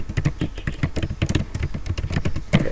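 Rapid typing on a computer keyboard, a dense run of crisp key clicks at a steady fast rhythm, close and clear, with no talking.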